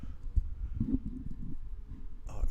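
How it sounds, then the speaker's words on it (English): A microphone is shifted and fastened with an elastic band, giving close, low muffled bumps and rubbing handling thuds, ending in a brief louder scrape. "Let me just secure that microphone."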